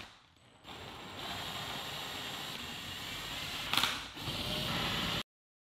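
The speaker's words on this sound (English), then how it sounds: "Let's get the subwoofer grill removed" A ratchet clicks steadily while unfastening the grill over a car subwoofer, a continuous mechanical ratcheting close to the microphone with one brief louder burst near the end before it stops abruptly.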